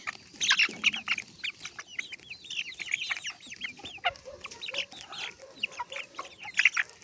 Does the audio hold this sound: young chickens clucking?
yes